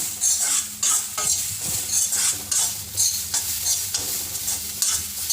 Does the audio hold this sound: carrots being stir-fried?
yes